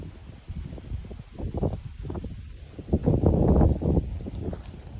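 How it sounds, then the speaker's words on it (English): Wind gusts across an open field along the Appalachian Trail, a rough rumbling buffet on the microphone that swells and fades, strongest toward the end, with rustling underneath. "especially when the wind's blowing"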